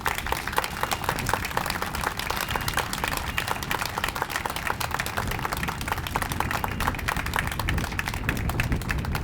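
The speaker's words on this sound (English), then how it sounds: "Please give them a round of applause" A dense, steady round of applause from a crowd honoring veterans and active service members at a ceremony, sustained clapping throughout with no voices over it.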